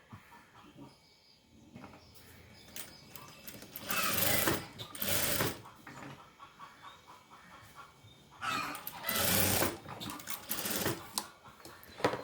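Sewing machine stitching a half-inch hem during a tailoring lesson, running in two loud bursts of rapid stitching separated by quieter handling sounds.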